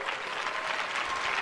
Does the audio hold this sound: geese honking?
no